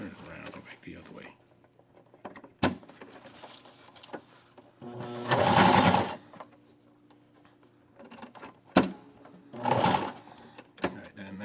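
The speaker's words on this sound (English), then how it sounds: "that should be all the stitching you need to do for your mask right there" A sewing machine stitches a homemade fabric face mask in short bursts, its rapid mechanical whirring rising and stopping twice with clicks between runs, close by, while a person talks in the quieter gaps.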